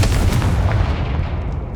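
A fiery Confringo spell blast in the Hogwarts Legacy video game, heard as a loud, continuous booming rumble with crackling bursts that slowly fades over under two seconds, with no voices.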